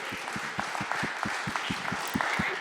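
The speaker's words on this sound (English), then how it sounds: "the reason people are clapping" A crowd at a talk applauds, a brisk run of steady claps that sounds close and lively, with a few cheers mixed in.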